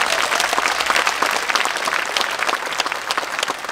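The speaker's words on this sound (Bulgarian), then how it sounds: "Аплодисменти за това." A concert audience at a tribute show in Plovdiv breaks into full, sustained applause, a dense wash of many hands clapping close and loud with no talk over it.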